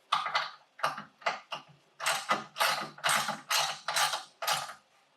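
A ratchet tightens a coilover bolt with a run of loud clicking bursts, close by, first in short quick strokes and then in longer steady pulls, with no talking.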